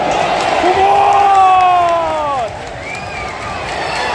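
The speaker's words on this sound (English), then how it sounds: "now get prepared for the cheering compilations after the goal" A football stadium crowd roars after a goal, a loud sustained swell with rising and falling chant-like voices, easing slightly toward the end and heard from within the stands.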